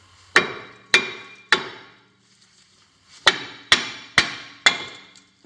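Sharp metal strikes from an old receiver hitch hammering a front brake rotor loose on a 2010 Kia Soul: three loud clangs in quick rhythm, a pause, then four more, each ringing briefly, no talk.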